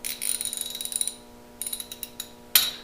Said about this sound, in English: Looks like I need to get a wrench for this last bolt.